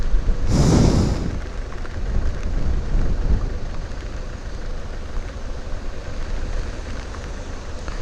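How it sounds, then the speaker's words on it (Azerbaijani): Steady rain hisses and patters around a motorcycle rider on the road, loud and constant, with a brief louder rushing swell near the start; no voices. "Yağışda sürürəm,"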